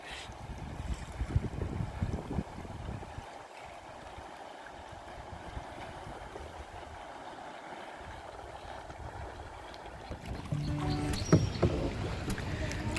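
A kayak being paddled through water outdoors, with faint, soft splashes and swishes over wind noise, growing louder with rhythmic strokes near the end.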